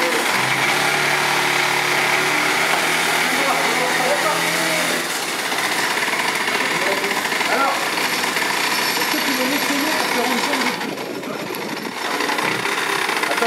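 A scrapyard quad bike engine runs at a steady, buzzy, rattling idle close by, holding an even level throughout with a brief dip partway, while people talk in the background.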